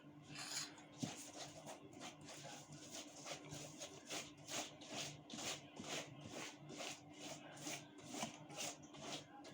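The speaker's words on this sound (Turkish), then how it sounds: "Tekrar bir kat tereyağımızı sürüyoruz en alttakine." Butter is brushed onto a bottom layer of handmade walnut baklava pastry in a tray, a steady series of soft, rhythmic scraping strokes repeating close up and fairly quiet, with no talk.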